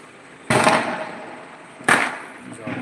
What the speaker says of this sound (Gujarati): ફટાકડા ફૂટી રહ્યા છે અને રોશની પણ ઝળફળી રહી છે